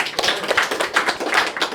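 A short burst of hand clapping from a small group, quick and irregular, fairly close.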